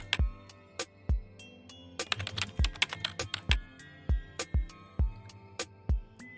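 Fingers typing on a computer keyboard, close and clear, with separate clacking keystrokes, a quick burst of rapid presses in the middle and no talking.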